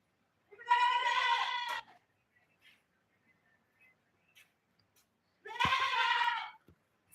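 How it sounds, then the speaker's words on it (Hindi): Goats and their kids bleat in two loud, wavering calls a few seconds apart, close by, with faint small noises in between. "गाइस हमारी बकरियों की आवाज सुन रहे हो? साथ में बकरियों के बच्चे भी मैं कर रहे हैं।"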